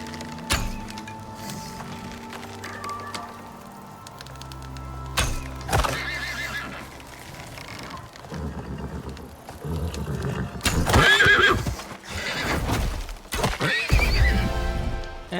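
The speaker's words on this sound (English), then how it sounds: "Let's get rid of this horse first." A horse in the video game Icarus neighs and whinnies in several loud bursts amid clip-clop hoofbeats, thuds and game effects, with gaps between calls and no speech.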